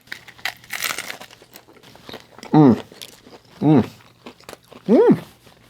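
A bite into a crispy Taco Bell taco shell gives a brief crunchy crackle near the start, followed by chewing and three drawn-out appreciative voiced hums.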